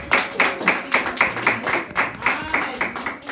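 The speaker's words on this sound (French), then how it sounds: "Clap for the word of God." A church congregation claps in a steady, fast rhythm, many hands striking together in even, repeated beats that fill the room, with no talking over them.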